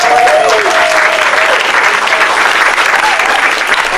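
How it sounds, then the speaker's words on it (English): Loud, continuous audience applause from a crowd, steady dense clapping filling the whole stretch with a few cheers or whistles near the start. "All right, one more round of applause."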